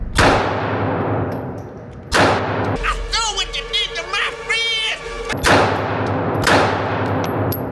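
A gun fires again after a jam is cleared: sharp, loud, close reports with ringing decay arrive a few at a time, with a stretch of clattering, chirpy noise between the volleys.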